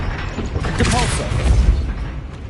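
A Depulso repelling spell cast in a Hogwarts video game lands as a loud, dense burst of booming impact and rumble, with a swelling magical whoosh layered over sustained low-end energy.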